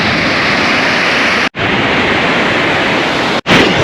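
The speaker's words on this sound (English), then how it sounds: "I don't know if you can hear the water" Heavy, roaring waterfall close by, a dense steady rush of falling water that fills the whole clip and cuts out briefly twice, with no talking.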